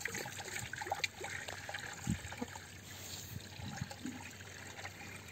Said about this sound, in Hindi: अभी हम पानी भरेंगे, लो ताशु नलकी लेके आओ, पानी भरेंगे जल्दी से